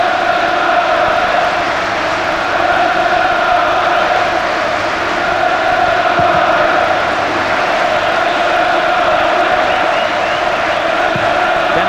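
A packed record crowd of 58,293 at Old Trafford for Manchester United against Arsenal in the 1999/2000 Premier League, a dense, steady roar of distant voices filling the stadium throughout.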